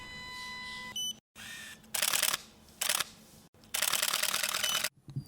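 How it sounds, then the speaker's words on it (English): A camera shutter clicks after electronic beeps, followed by several short bursts of bright mechanical noise separated by silent gaps, fairly close and alone with no talk. "The voice you'll be hearing will be August and I after the shutter click"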